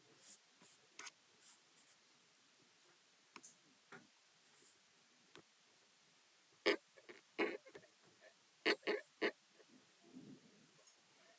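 A pen scratching on paper during essay writing, sparse short strokes and taps at first, then clustered quick scribbles, close and quiet with no talking.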